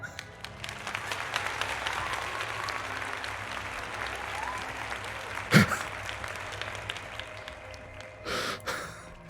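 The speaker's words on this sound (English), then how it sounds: "An applause for that comment of Futura Light." Applause sound effect played during a Diablo IV open beta livestream, a burst of clapping and crowd noise running steadily throughout, with a sharp accent midway and a brief swell near the end, over game sounds.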